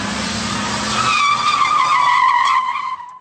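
Car tires squealing loudly as a car drifts through an intersection in Istanbul during street hooning, a sustained screech with a falling engine tone that cuts off abruptly after about three seconds, no talk.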